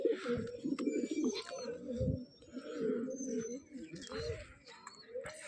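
Pigeons coo in low, warbling bursts close by, with scattered chirps and rustles, while someone speaks over the calls at intervals.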